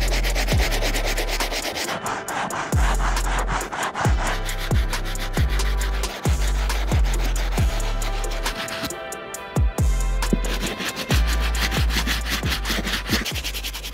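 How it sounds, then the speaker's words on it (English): Stiff bristle brush scrubbing the soles of Air Jordan 12 Olive sneakers, loud rhythmic back-and-forth rubbing strokes, about two per second, close up and continuous with no talk. "So we're gonna go straight to the slip bristle brush and start cleaning up these soles."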